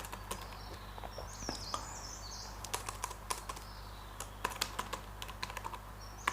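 Computer keyboard typing a database file name: quick, irregular key taps close by, steady throughout, with faint bird chirps in the background.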